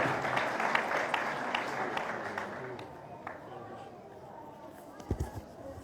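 Applause from a parish congregation at a Capuchin priest's thanksgiving Mass welcoming Reverend Father Robinson Ashiq, dense clapping that fades over several seconds before a short burst of sound near the end.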